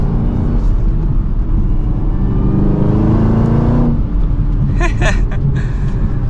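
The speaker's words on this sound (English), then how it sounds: "But let's give it another acceleration here from first gear." A 2023 Chevrolet Camaro ZL1 with a supercharged V8 pulling hard from first gear, a deep, loud rumbling drone that builds steadily, then eases off before someone speaks over the quieter engine.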